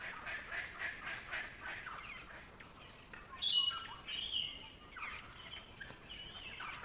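Wild Australian birds calling near fruiting trees where palm cockatoos and other local birds gather, a series of repeated chirps and calls of moderate loudness, with a sharper burst of calls midway, outdoors.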